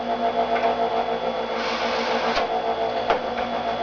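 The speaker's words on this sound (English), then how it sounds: "I'm going to just pull through stage 2 several times here" A knife is pulled through stage 2 of a Chef's Choice M130 electric sharpener, giving a steady motor whir with grinding swells as the blade passes through several times, close and fairly loud.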